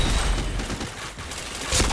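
Rapid volleys of gunfire in a shooter video game during a run of headshots, loud and close, with a sharper crack near the end.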